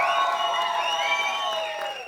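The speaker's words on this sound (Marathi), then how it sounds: "जोरदार टाळ्या झाल्या पाहिजेत, संदीप मोहिते पाटील सरांसाठी" Audience at a Marathi film trailer launch event cheers, whoops and whistles in a loud, sustained crowd roar, with shrill whistle tones sweeping over the din throughout.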